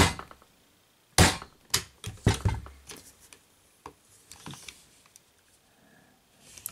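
Light taps on the plastic gun barrel of a Maketoys RE:Master MTRM-08 Despotron toy robot, a handful of sharp, close clicks spaced irregularly, the loudest near the start, then fainter knocks and rubbing.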